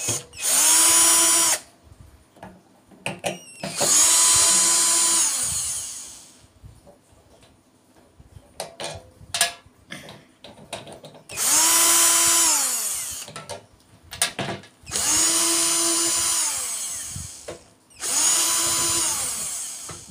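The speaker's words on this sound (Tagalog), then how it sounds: "Gamitan na po natin ng hand drill guys, battery drill para po mabilis" A battery-powered hand drill runs in four or five loud bursts of a few seconds each, with short pauses between them, during repair work on a large rice cooker that has no power.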